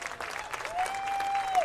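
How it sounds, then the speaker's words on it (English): Applause from the crowd at a North-South all-star high school softball game in Bloomington, honoring the South team. The steady clapping runs through the whole short stretch, with a faint tone and some crowd murmur underneath. "One more round of applause for the South"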